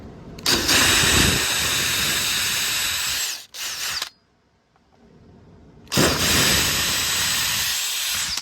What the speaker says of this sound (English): So I'm just gonna drill out the hole a little bit bigger.